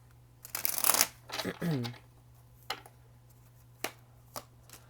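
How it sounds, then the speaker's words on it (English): Tarot cards are shuffled in a few quick riffling bursts, close and crisp, followed by soft taps and shuffles as they settle, with faint talk around them. "One more shuffle, doesn't feel right."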